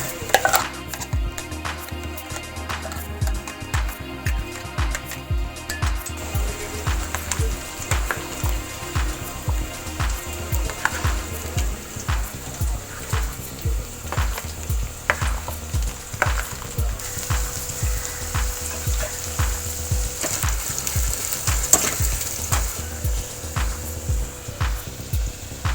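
Spice masala frying in a pan for a Konkani-style sprouted moong curry, a steady close sizzle with regular rhythmic stirring or scraping knocks throughout, no talking.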